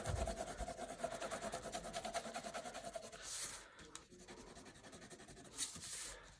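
A pencil or crayon rubs quickly back and forth across paper while coloring in a shape, a soft steady scratching, close and quiet, with a brief pause before it resumes.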